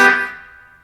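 A country lick on guitar in a pentatonic scale, heard as a single bright plucked phrase that rings out clearly and decays over under a second, played alone with no talking.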